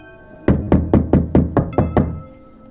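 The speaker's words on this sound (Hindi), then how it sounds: "अचानक बाहर से खटखट की आवाज आती है।" Seven sharp, evenly spaced knocks sound loud and close, a steady rhythmic series on a door or wall of a house at night, then stop, with no voices.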